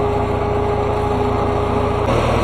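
A Farmall 400 tractor engine runs steadily nearby on a farm, a loud, even drone with a constant hum that shifts slightly in pitch near the end.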